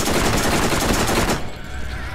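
Rapid SMG fire from a Borderlands video game, a dense unbroken burst of gunfire lasting over a second before cutting off into quieter game noise.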